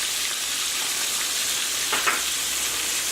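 Corn fries in a hot pan, seasoned with black pepper and adobo, giving a steady loud sizzle and hiss throughout, with a couple of brief stirring scrapes in the middle.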